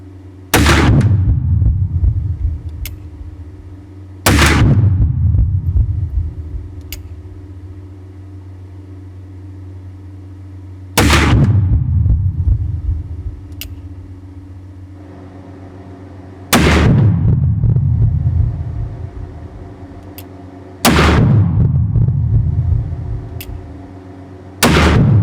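Five loud black-powder shots from a Uberti reproduction Remington 1858 percussion revolver, each a sharp crack with a decaying boom, spaced a few seconds apart with quiet gaps between.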